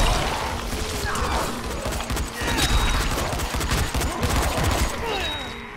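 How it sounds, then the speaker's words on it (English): Sustained, dense automatic gunfire and chaotic crashing in the zombie survival game Dying Light during a quarantine zone mission, loud and continuous throughout, with faint voices mixed underneath. "Why are you shooting"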